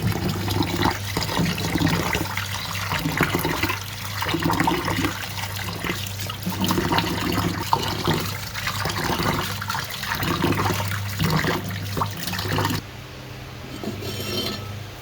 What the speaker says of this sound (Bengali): এই তো টকবক করে বলক আসছে